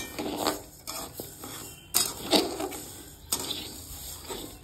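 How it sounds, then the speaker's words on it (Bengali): Lentils frying and being stirred in a wok for khichuri: a few bursts of scraping and clattering utensil strokes, each followed by a fainter sizzle, close by. "ডালটা একেবারে লাল লাল করে ভেজে নেব সুন্দর করে"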